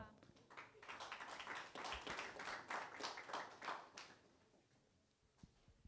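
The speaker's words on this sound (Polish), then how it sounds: "Wielkie brawa." Applause from a crowd at an MMA weigh-in, a burst of clapping lasting a few seconds before fading out.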